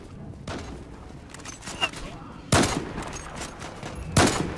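Gunfire in the online shooter Zula: a few sharp, broadband shots stand out over steady game background noise, with two louder cracks near the middle and end of the stretch.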